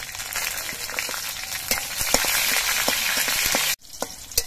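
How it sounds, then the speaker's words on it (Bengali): Nigella seeds and slit green chillies fry in hot oil, a steady broad sizzle with scattered crackles and spatula scrapes that cuts out abruptly near the end, then brief sputters resume. "কালো জিরা কাঁচা লঙ্কাটা তেলের মধ্যে নাড়াচাড়া করে ভেজে নিয়েছি।"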